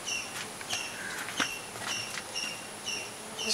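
Melipona stingless bees buzz around a hive at a beekeeping site, a faint, steady high drone with small passing flight hums and light clicks, heard alone.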